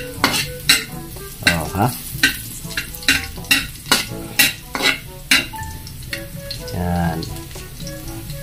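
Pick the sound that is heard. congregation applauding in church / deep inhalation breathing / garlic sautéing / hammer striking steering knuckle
garlic sautéing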